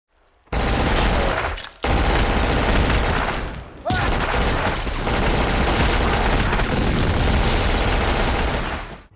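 Dense, continuous video game gunfire during an assault on a machine gun nest. Loud overlapping bursts and booms carry on for about nine seconds, broken by two brief gaps.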